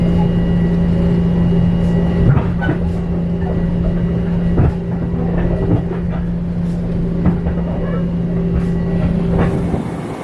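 An M7 commuter train running on the tracks, a loud steady rumble with a humming motor tone and intermittent clanks and rattles from the rails, heard close by throughout.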